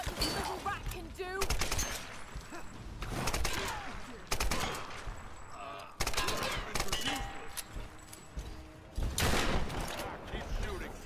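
Repeated bursts of loud gunfire in Tomb Raider Definitive Edition, rapid volleys separated by brief pauses. Shouted voices from the game cut in between and over the shots.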